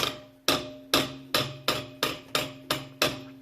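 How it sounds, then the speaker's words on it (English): Quiet, regular thumps about every half second, eight in a row, each a soft low hit from a Ludwig kick drum played at low volume with a short ringing decay and nothing else around them. "So I'm gonna play the kick right now"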